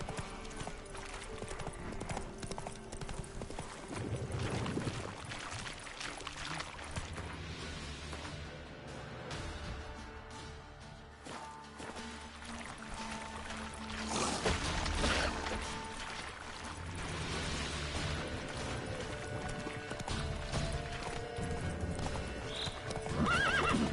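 Horse hooves clip-clop at a steady gallop with repeated neighs and whinnies in The Witcher 3 game, riding along continuously under dense in-game ambience and music.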